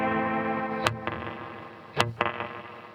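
An electric guitar runs through a PedalPCB Spirit Box reverb pedal, giving a sustained, washy tone broken by two pairs of sharp picked attacks that bloom into long reverb tails.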